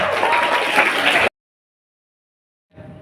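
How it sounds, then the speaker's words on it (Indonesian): An audience at a school Islamic youth camp session bursts into applause, a dense crowd clapping that runs for over a second, cuts off abruptly into silence, then faint noise returns near the end. "Tepuk tangan untuk kita semuanya."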